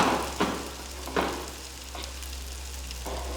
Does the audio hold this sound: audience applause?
no